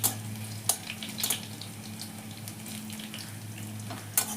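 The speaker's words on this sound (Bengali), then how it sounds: "এবার রসুনটাকে একটু ভেজে নিচ্ছি।" Four to five garlic cloves frying in oil with browned onions, a steady close sizzle with a few louder spatters and stirring clinks scattered through it.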